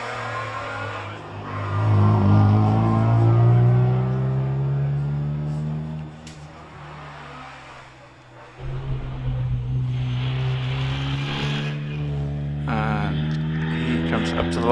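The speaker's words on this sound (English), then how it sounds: "David Slade heads his way up the hill in the MGB GT Sebring, the beautiful looking 2-litre" A 2-litre MGB GT Sebring race car climbs the hill at the Prescott hillclimb, its engine droning loud and close and then revving again after a brief dip, with a commentator talking over it.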